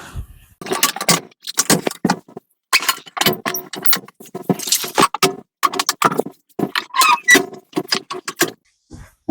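Folding passenger seats in a converted bus are pushed down with a busy run of metallic clanks, rattles and squeaks. Short irregular bursts come up close, with brief pauses between them.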